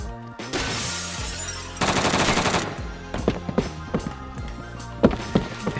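Automatic weapons fire in rapid bursts in the Roblox shooter Phantom Forces, loud and close, with fast repeated shots, brief gaps and a few heavier single cracks toward the end.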